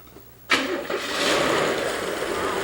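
A car engine being run to show its valve train in operation cranks and catches with a sudden burst, then settles into a steady, close idle.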